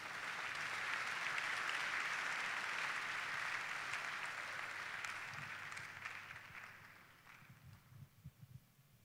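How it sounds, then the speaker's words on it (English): A church congregation clapping in a large hall, dense applause that swells early and then thins and fades over the last seconds into scattered claps. "Clap well, if you want to clap,"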